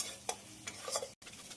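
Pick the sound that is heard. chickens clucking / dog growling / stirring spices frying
stirring spices frying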